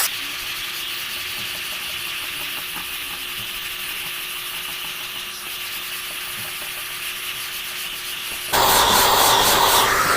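A sanding block scrapes back and forth over body filler on a car fender down to the body line. The close, steady abrasive rasp continues without a break and turns harsher and louder near the end.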